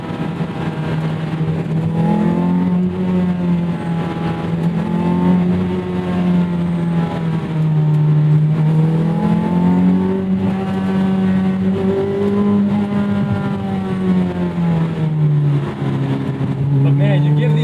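A 2001 Toyota MR2 Spyder with a swapped 2ZZ engine revs close and loud, its buzzy note climbing and falling in smooth waves without a break for the whole stretch.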